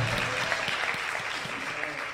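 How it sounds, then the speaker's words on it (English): A church congregation claps steadily together, a dense patter of applause that holds at an even level throughout the short stretch. "Let's give a clap."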